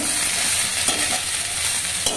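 Rice and spices fry in a pan as cumin and coriander go in, making a loud dense sizzle with a couple of scraping stirs.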